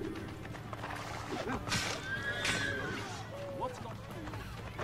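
Horse in the video game Assassin's Creed: Brotherhood, with neighing and clip-clopping hooves amid in-game combat noise, layered under a player's loud, agitated talking.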